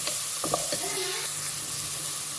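Chopped onions go into hot oil and butter in a pan and start to fry, with a soft, steady sizzle and a few quick scraping stirs near the start, with no one talking.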